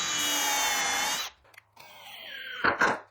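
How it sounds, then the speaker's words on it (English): A power drill bores a pilot hole and countersink into wood for a screw on an elevated greenhouse planter box, a loud steady whine for over a second, then a short pause and a second lower drilling burst ending in grinding bursts. "Pre-drill and countersink a screw in from the top instead of messing with the pocket hole."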